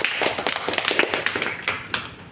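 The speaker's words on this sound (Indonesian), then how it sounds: "beri tepuk tangan untuk kelompok" A classroom full of students clapping together, a dense patter of many hands, fairly loud and steady throughout.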